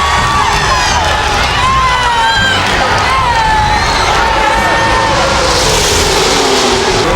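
A huge race-track crowd of about 170,000 roars and cheers in a NASCAR Racing 2003 game, loud and continuous, with whistles and high shouts over a dense rumble that may include engines.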